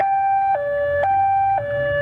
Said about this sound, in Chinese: 警车一路鸣笛